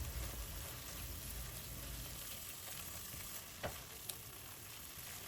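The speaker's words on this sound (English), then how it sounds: "Stir and mix." Kebab masala of coriander powder, cumin powder, garam masala and black pepper stirred in a pan, with a faint, steady sizzle and a couple of soft spoon scrapes near the end.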